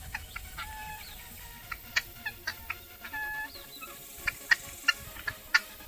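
Farmyard chickens cluck in a series of sharp, repeated calls at moderate distance, with a faint background hum and occasional higher squawks scattered through the stretch.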